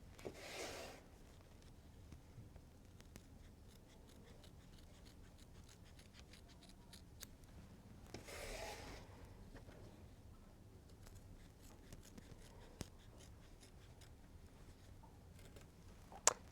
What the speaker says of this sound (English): See, these scissors had no problem going through all 3 layers.